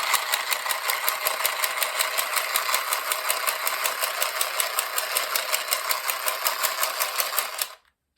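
Aldi handheld sewing machine running continuously, a loud close rapid clatter with an even fast rhythm that holds steady for about seven and a half seconds before cutting off abruptly.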